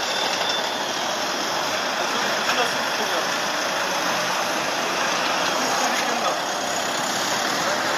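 A car drives through a motorway blockade protest, heard as a steady, loud broadband roar of engine and road noise with no breaks.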